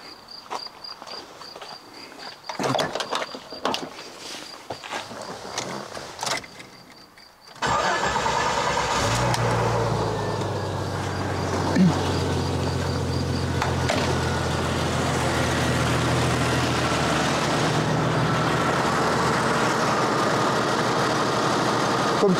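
A 1995 Jeep Cherokee with 303,000 km cranks briefly and catches at once, then settles into a steady, close idle that runs on without break, with faint crickets or insects audible before it fires.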